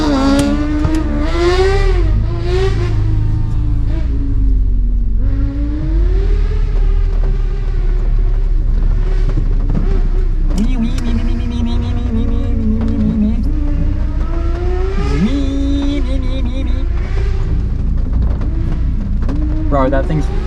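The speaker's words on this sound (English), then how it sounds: "you got the freaking little buggy thing in front of me, which could very well be too loud for this race" A loud racing buggy roars nearby on a race track, its engine droning and revving steadily through rising and falling pitch, with a voice talking over it.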